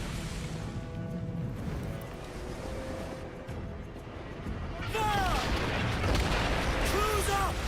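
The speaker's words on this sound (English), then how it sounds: "Is that fort firing mortars at me?" A coastal fort fires mortars at a ship in Assassin's Creed Black Flag. Dull artillery booms roll under steady sea and wave noise and general battle din, with voices talking over them.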